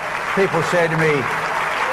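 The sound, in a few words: audience applause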